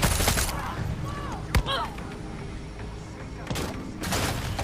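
Rapid automatic gunfire in Far Cry 6 crackles in bursts, with a sharp loud shot near the middle and more volleys toward the end, with faint voices mixed in.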